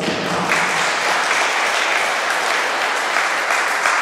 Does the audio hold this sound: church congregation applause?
yes